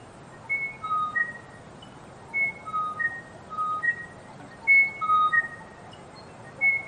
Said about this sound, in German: auch hier haben mich diese Vögel mit ihren Klängen irgendwie total fasziniert